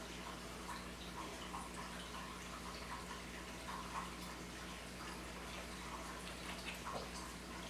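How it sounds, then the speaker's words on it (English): Water draining and dripping from wet compression socks, a faint, continuous trickle with scattered small drips, heard close up and fairly quiet. "still dripping pretty fast"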